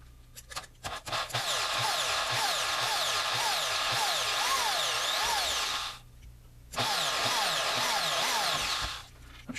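Electric drill with a 5/64-inch bit whining up and down in pitch as it bores small holes, running steadily, pausing briefly, then starting again, close and fairly loud.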